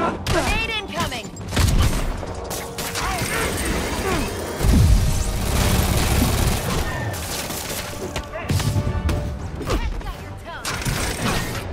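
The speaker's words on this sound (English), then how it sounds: "Grenade incoming!" Grenade blast and bursts of gunfire during a Spider-Man video game heist mission, loud booms and rattling shots layered with game music and characters talking throughout.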